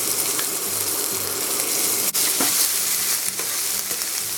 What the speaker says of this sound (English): So now let's saute all the vegetables.